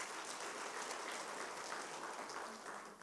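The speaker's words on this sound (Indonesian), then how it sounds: "Tepuk tangan dong buat Tuhan Yesus." Church congregation applauding during a worship service, a steady dense wash of clapping that fills the whole three seconds at moderate loudness, with no voices over it.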